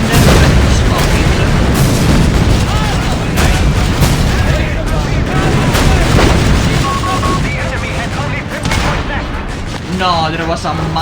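In a Company of Heroes 3 battle, a mine goes off under a tank amid dense, loud booms, artillery and gunfire that crowd the scene almost without a pause.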